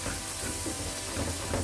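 Chopped onions sizzling in a pan while being stirred for Jamaican-style creamy shrimp Alfredo, a continuous loud hiss with faint stirring scrapes.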